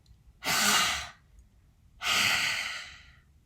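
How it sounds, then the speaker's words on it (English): Two slow, deep exhales during a heart-based mindfulness meditation breathing exercise, each a soft, close, airy rush lasting about half a second to a second, separated by a quiet pause, with no talking. "And exhale."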